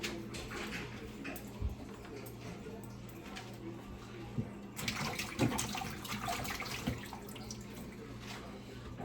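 Water runs from a sink tap while green onions and other vegetables are rinsed by hand. A steady splashing flow carries scattered knocks and handling sounds, with some talk in the room.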